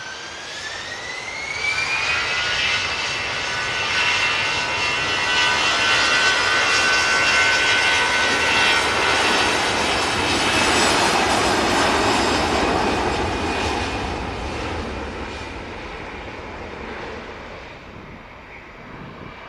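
A jet airliner taking off from Manchester Airport and climbing out, its engines building from a rising whine into a loud, sustained roar that peaks close by and then slowly fades as it departs.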